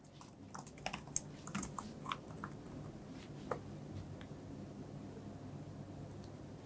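Keys of a computer keyboard clatter in short uneven bursts as code is typed, soft and close against a steady low hum, with scattered faint clicks and pauses between runs.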